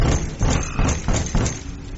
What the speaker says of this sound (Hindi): हमने थोड़ा डरते हुए दरवाजा खटखटाया।